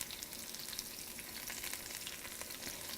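Carrots go into a pan where chopped onions are stir-frying for a General Tso chicken stir-fry, giving a steady, soft sizzle with faint crackles and no talking.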